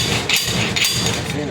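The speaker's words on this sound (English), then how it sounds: "Might have to put a nut on it and give it a smack." A hammer smacks a nut threaded onto an axle of a 1957 Chevy rear end, two sharp, loud metallic blows close by over steady background noise.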